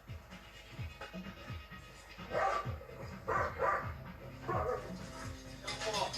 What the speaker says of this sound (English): The dog's desperate to get in.